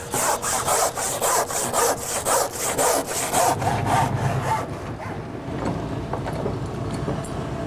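A hand saw cuts through wood in quick, regular back-and-forth strokes, close and loud, slowing and fading into quiet scraping and rustling after about five seconds.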